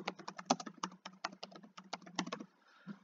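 Fast, uneven typing on a computer keyboard while entering work into an online classroom assignment, close and clear, with dense clicky keystrokes that trail off into a short pause near the end.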